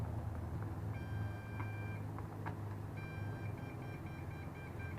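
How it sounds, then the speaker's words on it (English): Rapid high-pitched electronic beeps from a quadcopter's radio transmitter signaling lost connection repeat in quick bursts, faint against a low background hum, with a short pause midway. "you notice the transmitter is going to beep really fast"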